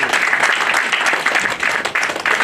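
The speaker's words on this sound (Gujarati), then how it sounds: "એકવાર જોરદાર તાળીથી આ બંને મહેમાનને વધાવો" Audience applause welcoming two guest speakers at a Growth Capital and IPO business summit, dense continuous clapping from a crowd filling the hall at steady loudness throughout.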